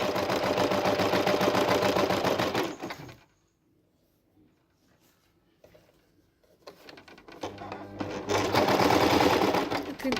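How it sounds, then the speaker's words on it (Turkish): A domestic sewing machine stitches around the edge of a summer dress in long loud runs, stopping for a quiet pause before the steady whirring resumes, close up. "Bakın çevresini komple makine gidiyorum."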